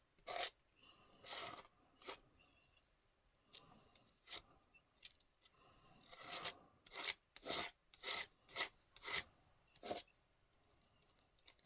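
Paper being scraped in short, crisp bursts, close and quiet, with pauses between strokes and a quicker run of rhythmic scrapes toward the end.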